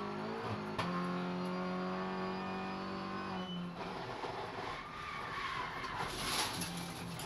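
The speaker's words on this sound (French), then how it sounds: "il se loupe au freinage de l'épingle" Race car engine revving and tires skidding as it brakes late into a hairpin during a TCR 24-hour endurance race in the Czech Republic, a sustained high engine whine with shifting pitch, close and loud.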